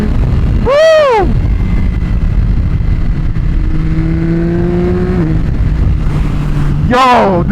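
A Yamaha R9 motorcycle fitted with a new aftermarket exhaust revs hard at close range, with sharp rising and falling blips at the start and end and a sustained high-rpm drone between, loud and alone.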